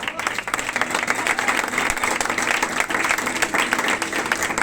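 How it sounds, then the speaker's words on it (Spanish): An audience at an acoustic concert in a Zaragoza music hall applauds with dense, steady clapping that fills the room for the whole stretch, at an even, sustained level. "Así que José Peirona, José Ibáñez, un fuerte aplauso para vosotros."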